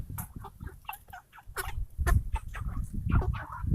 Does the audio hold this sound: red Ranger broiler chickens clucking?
yes